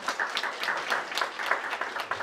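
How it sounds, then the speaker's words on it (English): An audience at a homeownership panel claps for a panelist, a soft, fairly distant patter of applause that stays steady throughout. "Let's give him a round of applause."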